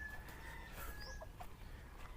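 Bantam chickens clucking softly in short scattered calls over a steady background hum, with a faint high chirp from another bird.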